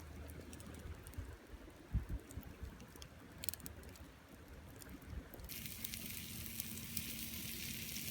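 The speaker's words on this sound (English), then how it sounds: "Bacon successfully shrinking on the rock." Bacon sizzles on a hot beach stone at a winter beach camp, a soft crackling fry with a few pops that swells into a louder, steady hiss toward the end.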